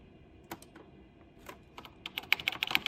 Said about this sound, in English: It doesn't feel mechanical, so it's probably just a membrane keyboard.